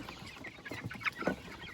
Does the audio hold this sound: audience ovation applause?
no